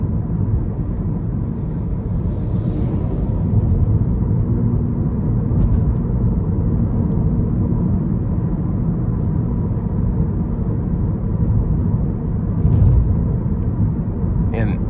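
Low road rumble inside a 2011 Toyota Prius while driving, an older car sitting low to the ground, heard as a steady dull drone throughout with no talk.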